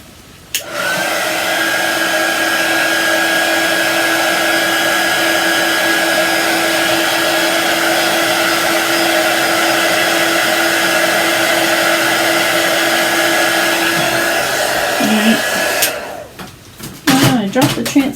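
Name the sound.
hair dryer drying ink on a craft project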